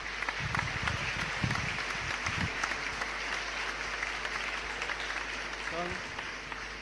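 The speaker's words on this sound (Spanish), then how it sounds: "un fuerte aplauso al doctor Martín" Audience applause fills a lecture hall welcoming a speaker to a talk on philosophy and vegetarianism, steady dense clapping sustained throughout with some low murmur beneath.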